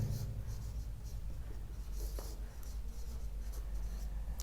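Faint, steady scratching of words being written on a classroom board, soft and close over a low hum, with no talking.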